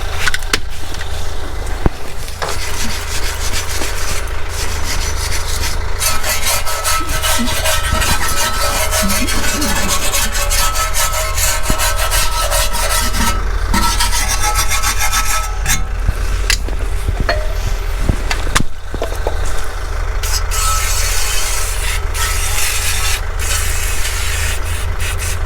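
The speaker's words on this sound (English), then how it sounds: "all we have to do, we have to give it a good clean now. Wire brush," A wire brush scrubs hard and continuously at a VW Transporter brake disc during a brake job, giving a loud, steady rasping hiss that barely lets up, apart from a few brief breaks.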